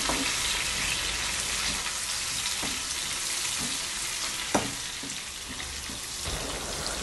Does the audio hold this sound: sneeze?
no